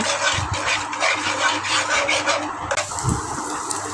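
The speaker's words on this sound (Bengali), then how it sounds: "ডিমের ভিতর লবণ দিয়ে এবার ভালোভাবে লাড়াচাড়া করে ভেজে নেব" Salted eggs being stirred and fried in a pan make a soft, close, steady scraping and frying rasp with a few louder utensil scrapes, and no talk.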